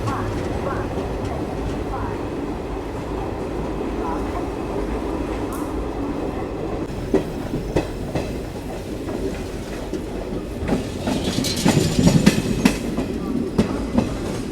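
Chitrakoot Express heard from inside a general-class coach: a steady, loud rumble of wheels and carriage noise throughout, with rhythmic clickety-clack and brighter rattles toward the end, plus faint voices under the din.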